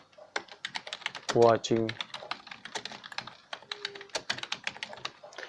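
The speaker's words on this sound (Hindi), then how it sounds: "इस तरह आप इसमें टाइपिंग कर सकते हैं।" Rapid keystrokes on a computer keyboard while entering text in InPage desktop publishing software, a steady close clatter of clicks that runs throughout, with someone speaking briefly over it.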